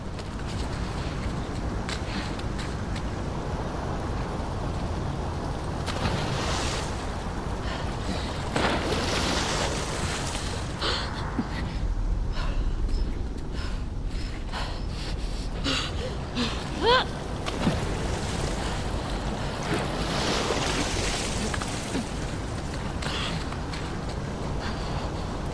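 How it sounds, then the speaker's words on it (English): A fast-flowing torrent of water rushing through sewers in the video game The Last of Us Part II, heard as a continuous broad roar with gusty, surging swells that never let up. "the player was faced with a fast-flowing torrent of water they couldn't cross"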